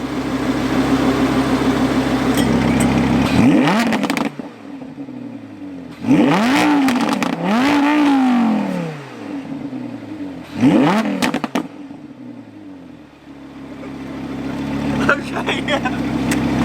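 An Audi R8 V10 Plus sits idling with a deep, loud rumble, then its engine is revved in three bursts, the exhaust note rising and falling sharply and crackling between blips before settling back to a steady idle.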